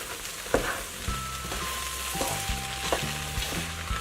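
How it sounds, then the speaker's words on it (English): Ham pie filling of simmered ham with flour just added, stirred in a pot; soft scraping strokes and clinks recur at a steady pace over a low bubbling simmer, close and alone with no talk. "Give it a stir."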